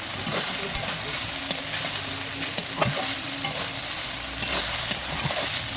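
Continuous crackling sizzle of small fish frying in hot oil, punctuated by light scraping taps of a utensil against the pan.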